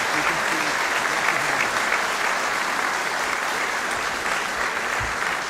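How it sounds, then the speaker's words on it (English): An audience at a high school senior awards ceremony gives a round of applause for a student, a broad, even wash of clapping that fills the room steadily throughout. "Please join me in another round of applause for Sammy Ravichandran."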